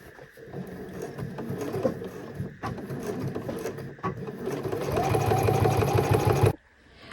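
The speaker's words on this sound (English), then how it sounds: "when you're sewing on those straps" A sewing machine stitches straps onto a tote bag, whirring in short bursts and then a longer steady run that rises in pitch before stopping abruptly, with a brief quiet tail.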